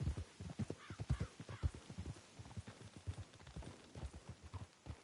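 Horses' hooves clip-clop at a steady walking rhythm in Red Dead Redemption 2, the soft thuds fairly close and moderately quiet, with no talk over them.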